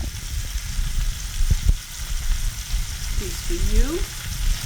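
Cheese steak meat with onions, peppers and mushrooms sizzles steadily in melting butter on a griddle, a close, continuous frying hiss with a brief spoken phrase over it.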